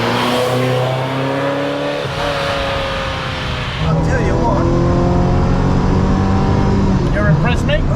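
A 35-year-old Ferrari Mondial T engine pulling hard under acceleration, pitch climbing through a gear change and then rising again, loud and close throughout.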